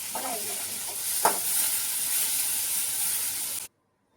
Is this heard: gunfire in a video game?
no